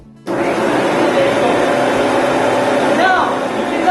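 Countertop blender whirring loudly and steadily while pureeing homemade tomato sauce, starting abruptly and running at full power throughout, with a voice faintly buried under the motor.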